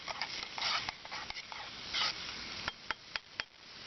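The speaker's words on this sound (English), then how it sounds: "Like my grits. Need to stir them just a little bit here." Grits being stirred in a pot at a campsite breakfast, with scraping swishes of a spoon through the thick coarse cornmeal followed by a few sharp clinks against the pot, close and moderately quiet.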